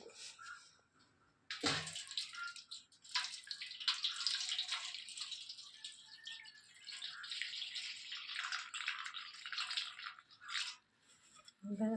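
Water poured off two bowls of overnight-soaked moong dal in a home kitchen, coming in splashing, trickling bursts with short pauses, fairly quiet and close.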